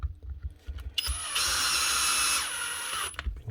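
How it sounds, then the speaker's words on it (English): A power driver runs steadily for about two seconds, driving screws into the plastic handle body of a Dewalt DCF787 impact driver, with a high whine over a broadband mechanical rattle and a few short clicks before and after. "Stick all your screws back in."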